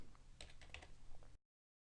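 Rapid clicking of keystrokes on a computer keyboard while retyping a spreadsheet entry, close and quiet, lasting just over a second before stopping.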